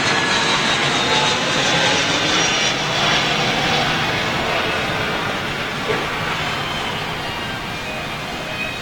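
Airbus A321 jet airliner at LAX, a loud, steady broadband engine roar that stays close and sustained throughout, with no talk over it.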